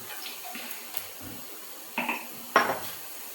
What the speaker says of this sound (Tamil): இந்த தண்ணியில் இந்த பூ அள்ளி போடுங்க.